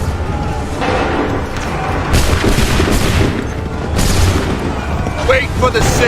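Musket volleys in the video game Assassin's Creed 3, a dense, rumbling crackle of massed gunfire with repeated booming swells, loud and continuous over a busy battlefield din.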